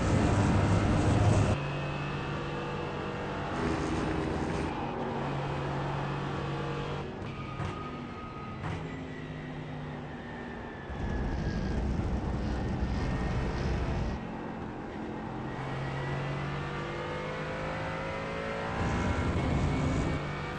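A race car engine in a racing video game revs and accelerates during a practice session, its steady, loud drone rising and falling in pitch as the car speeds up and slows through the track, with no talk.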